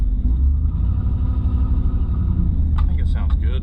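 A tow vehicle's engine runs steadily with a low, slightly droning rumble throughout, close and continuous, with a brief burst of other noise near the end.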